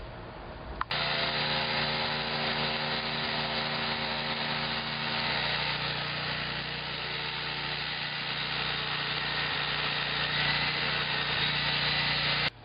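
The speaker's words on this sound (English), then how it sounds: "The pilot hole is first drilled, nice and smooth, drilled out with a new drill bit" A power drill with a new bit bores pilot holes into brick, a steady, loud, high-pitched whine with gritty grinding that runs continuously, starting abruptly and cutting off at the end.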